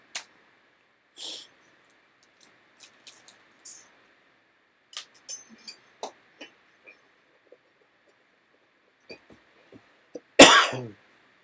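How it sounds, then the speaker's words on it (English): A single harsh cough bursts out near the end after scattered small clicks and taps in an otherwise quiet room. "Excuse my coughing."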